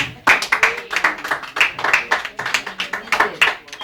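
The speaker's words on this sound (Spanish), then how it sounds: "Un aplauso para el niño, qué lindo día." A small group claps for a child, a few nearby hands beating in an uneven quick rhythm of distinct close slaps, fairly loud, with no talking over it.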